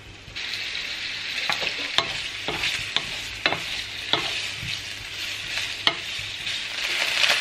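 Food browning as it fries in spitting oil in a pan, a continuous close sizzle with scattered sharp pops and spatters throughout.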